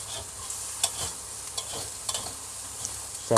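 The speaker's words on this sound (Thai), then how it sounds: "ผัดให้มันเดือดเดือด สักพักพอมันหอ มๆเราก็ คลุกเข้าให้เข้ากันเลยครับ" Minced pork stir-fried with curry paste for Thai basil pork: a steady close sizzle in a hot pan, broken by a few sharp spatula clinks and scrapes, with no talking.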